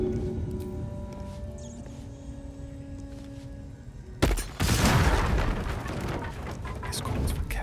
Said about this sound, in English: Just a bit of an explosion here and there.